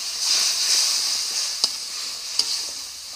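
A spice paste frying in a pan with a little water added gives off a soft continuous sizzle, marked by two brief sharp clicks of a utensil.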